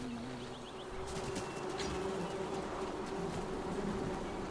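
Bees drone with a steady, fairly quiet buzz in Fortnite, holding a constant hum throughout with a few faint higher chirps over it.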